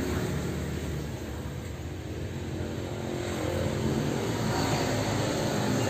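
A white 2014 Isuzu Panther Grand Touring diesel engine runs steadily at idle, a continuous broadband rumble that holds even and close throughout with no voices.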